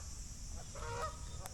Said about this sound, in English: There's Canadian geese here.